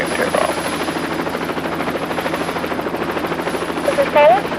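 A helicopter runs steadily at takeoff, its rotor wash and engine drone forming a constant, fairly loud bed throughout, with a brief whine near the end.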